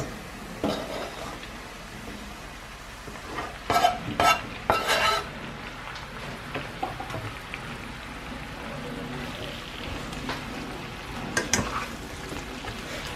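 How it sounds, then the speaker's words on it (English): Sliced mushrooms go into a frying pan of onions, with a quiet steady sizzle, a few clinks and scrapes of a utensil stirring against the pan, and a cluster of louder clatters partway through. "Now they're ready to go into the frying pan with the onions."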